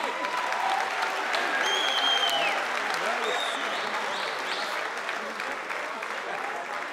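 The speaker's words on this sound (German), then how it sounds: "Nochmal großer Applaus für die beiden Damen." A fight-night crowd in Nürtingen applauds two female fighters after their bout, sustained loud clapping with cheers and whistles that slowly tapers, a voice speaking over it.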